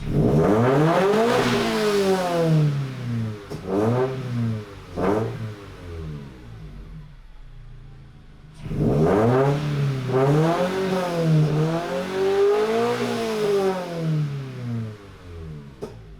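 A Subaru BRZ with a JDL 4-2-1 header exhaust revs hard in repeated sweeps, rising and falling several times. A short burst comes first, then a quiet idle gap, then a longer run of revs, loud and close.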